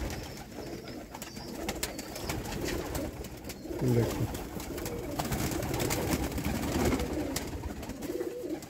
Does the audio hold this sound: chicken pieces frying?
no